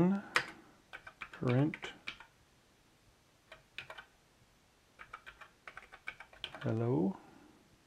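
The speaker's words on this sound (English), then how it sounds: "if we type blind here" Sparse keystrokes clack on a TRS-80 Model 1 computer keyboard in short irregular bursts, with someone speaking quietly between and over the keys.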